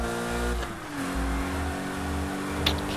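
Porsche RSR race car in Need for Speed Heat, its engine revving hard in repeated surges and shifts, loud and close with a bright bark at the end.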